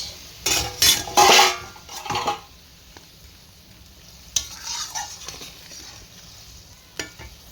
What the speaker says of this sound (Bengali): এবার দিয়ে দেবো মাছ।